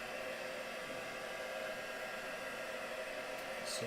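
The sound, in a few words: hair dryer drying a craft piece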